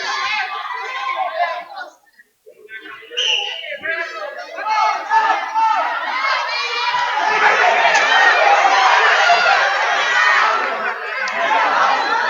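A high school wrestling crowd in a ballroom, Pottstown against Pottsgrove, chatters and then swells into loud sustained cheering and shouting after a brief lull, with young voices prominent.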